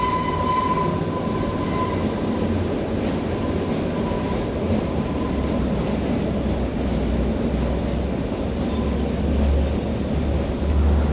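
Kalka-Shimla heritage narrow gauge train running steadily, a continuous loud rumble with rolling wheel clatter throughout, no voices.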